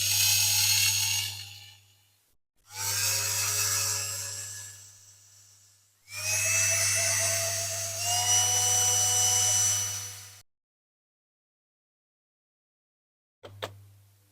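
Holes drilled with a 1.5 mm bit into a Dinky Toys 40g Morris Oxford diecast model during restoration: three long, whining bursts from a small power drill, close and steady with a low hum, followed by silence and a brief click.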